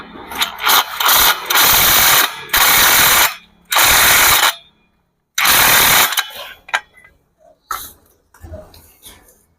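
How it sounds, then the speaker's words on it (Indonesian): An impact wrench tightens a nut during CVT service on a Honda Beat FI scooter, firing in several loud, close bursts of rattling hammering with short gaps between, then quieter clinks and handling noises. "Kita ikat kencang pakai impact"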